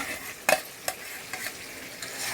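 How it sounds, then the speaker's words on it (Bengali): Eggs frying in a pan with a cooked spice masala give off a steady, close sizzle, punctuated by a few sharp scraping strokes of stirring. "এখন আমি ডিমগুলো ছেড়ে দিতেছি"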